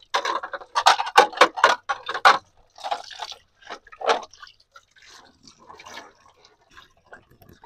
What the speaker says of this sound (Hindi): पहले इनको जो है पानी लगा लूँ मैं